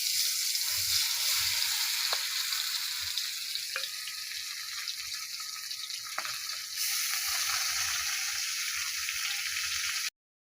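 Koi fish fry in hot oil after being dropped into the pan, giving a steady, moderately quiet sizzle with a few sharp pops and clicks. It runs uninterrupted before cutting off abruptly.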